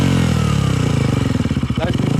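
A motorcycle engine, a BMW or KTM, rumbles up close with a low throbbing pulse that quickens and becomes more choppy as it revs, taking on a rhythmic chugging beat.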